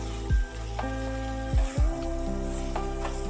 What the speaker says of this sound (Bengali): বেগুনগুলো একটু নাড়াচাড়া করিয়ে নিতে হবে।